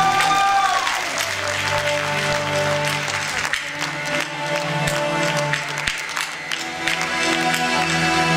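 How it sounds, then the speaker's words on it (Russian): Audience applause for a dance show by a ballet troupe, steady clapping throughout under sustained music with tonal notes, fairly loud and continuous. "Громкие аплодисменты для вас."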